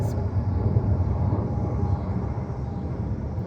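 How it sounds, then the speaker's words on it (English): An airplane flying overhead, heard as a steady, fairly loud low rumble and roar that holds throughout, with no talking. "oh, we love airplanes"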